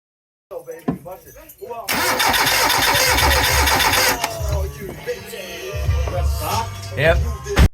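A rally car with a no-start fault, fresh cables fitted to its charred wiring loom, cranks with spark but fails to catch: a loud, sustained starter whirr with sputtering, uneven firing, while someone talks before and after.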